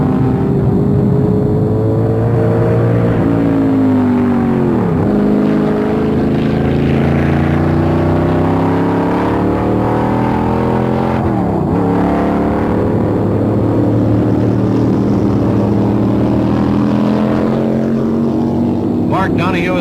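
A McLaren Chevrolet Can-Am race car at the 1967 Road America race roars loudly and continuously on its last lap, the engine note rising and falling through gear changes and passes, with a voice talking over it.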